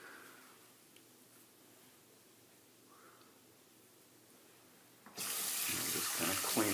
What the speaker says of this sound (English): I'm going to dump the water out of my scuttle and put the brush in my brush scuttle here.